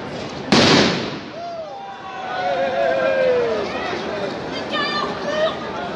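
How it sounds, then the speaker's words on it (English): A firecracker bangs sharply at a street protest in Toulouse, a single loud close blast followed by a shrieking whistle and a crowd shouting and chattering. "That's a firecracker thing, I think."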